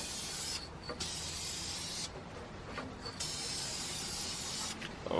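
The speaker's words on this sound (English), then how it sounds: "Just spray a coat back here just to get some paint out and get a sense of what the color's gonna look like." Aerosol spray paint hissing from a can onto Brembo brake calipers for a 2011-2014 Mustang Track Pack, two long steady close hisses separated by short pauses.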